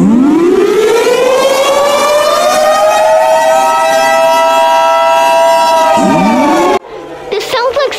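Civil defense emergency alert siren from Iraq in 1991, a loud wailing tone that rises steadily, holds a long sustained pitch, then dips and swells again before cutting off, with a voice talking briefly at the end.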